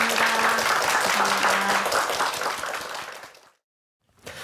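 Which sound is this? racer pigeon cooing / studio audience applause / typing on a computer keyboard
studio audience applause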